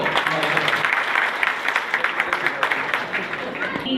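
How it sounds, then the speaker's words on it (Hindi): Loud applause from an audience at a Sindhi community ceremony honouring students, dense and steady clapping for the full stretch with voices mixed in underneath. "जोरदार ताली दो"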